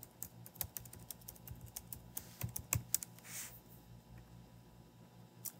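Quick bursts of key presses on a computer keyboard as an admin password is entered, close and fairly quiet, irregular taps clustered over a few seconds.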